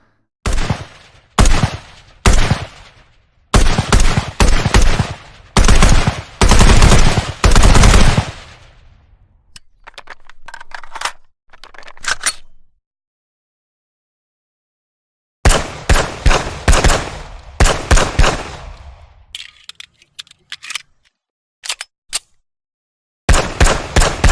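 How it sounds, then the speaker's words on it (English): New video game gun sounds: loud bursts of rapid automatic fire and single sharp shots, grouped in rapid sequences separated by short silences, with fainter clicking mechanical sounds in between, dry and close. "I've got some new gun sounds, which I'm pretty proud of"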